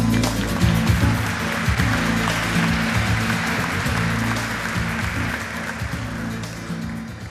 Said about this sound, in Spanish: Recibimos con un fuerte aplauso a Juan Carlos Letelier